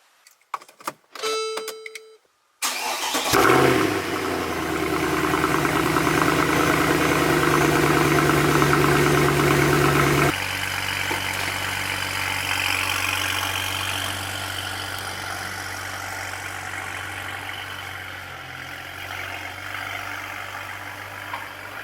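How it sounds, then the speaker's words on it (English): A BMW 335i engine cold-starts with a sudden loud catch after a few faint clicks, then holds a steady, rumbling high idle that drops slightly partway through. "Time to get moving some cars, which means cold starts and doing a shuffle"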